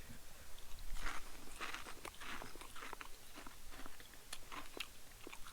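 Crunchy bites of salt and vinegar crusted brown trout being chewed close up, a series of sharp crackling crunches spread unevenly over several seconds against a steady outdoor background.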